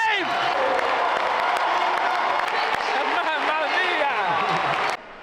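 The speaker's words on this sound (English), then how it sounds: "The crowd's going wild here." A stadium crowd roars, cheers and applauds continuously during the bell lap of a 10,000 m race at the 2024 European Athletics Championships, a dense, loud wash of noise that cuts off abruptly near the end.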